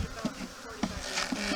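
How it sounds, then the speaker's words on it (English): Honeybees buzzing in a beehive box as a package is tipped in, a dense, steady close-up drone with brief rises and swells throughout. "And we're going to flip this and set the bees in. And there go all the bees."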